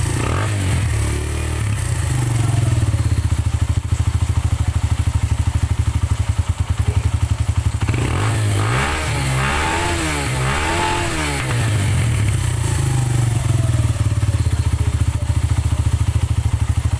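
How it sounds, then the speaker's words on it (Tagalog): A Rusi RKS 150 motorcycle engine runs after its carburetor has been refitted, a loud, close, continuous putter that rises and falls in several throttle blips and revs midway before settling back to a steady idle, with no talking. "umandar na yung motor niya"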